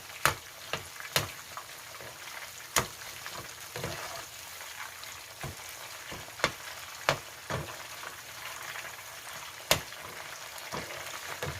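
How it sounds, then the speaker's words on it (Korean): Oil sizzles steadily as pork pieces deep-fry for sweet and sour pork, with frequent sharp pops and crackles over a constant soft bubbling hiss, close up. "건져내주고 두번 튀깁니다."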